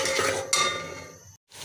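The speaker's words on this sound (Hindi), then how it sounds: "प्याज जो है वो हमारा फ्राई जो है वो होना शुरू हो गया" Onions frying in hot ghee in a pan, a steady close sizzle with faint stirring and utensil clinks, then a sudden brief silence near the end before the sizzle resumes.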